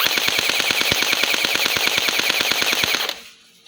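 An MCX gel blaster toy gun fires on full auto: a fast, even burst of about thirty sharp mechanical clacks lasting around three seconds, close and loud, then stopping abruptly into near silence.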